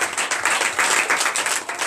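A church congregation at a Monday morning prayer service in Benin bursts into loud, dense applause that keeps going without letting up, with faint voices mixed in.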